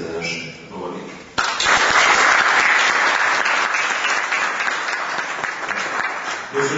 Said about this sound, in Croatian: ja vas zamolim za da pljeske za naše govornike